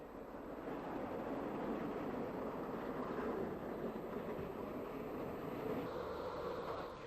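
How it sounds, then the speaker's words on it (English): Railcars of the 1950s arrive at Great Victoria Street station in Belfast with a steady rumbling roll and faint clatter, swelling slightly and then easing. The sound is fairly distant and soft, with no talking. "Railcars forming the 9:50 a.m. service from Banbridge, a location we will visit in the next volume in this series, arrive at Great Victoria Street."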